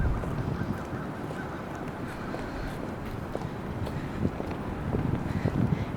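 Geese honk while being fed on a university campus, scattered calls mixed into strong wind buffeting the microphone outdoors, with no clear talk.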